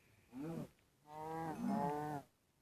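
Two lowing moos from a Minecraft cow in a survival world, a short call then a longer drawn-out one, close and clear with no talk over them.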